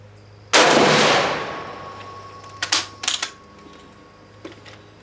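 A Finnish M27 bolt-action rifle fires a single sharp, loud shot just after cleaning of the bore, followed by a few clattering bolt-working clicks and a faint click near the end, with no talking.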